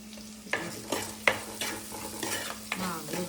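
Mango and onion sautéing in a pan, a steady sizzle broken by repeated scraping stirs of a spoon, each stroke giving a soft rhythmic swish, close and fairly quiet with no voices.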